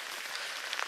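Rain falling in the timber during a wet moose bow hunt, a soft, steady patter on leaves and the ground, faint and continuous with no talk.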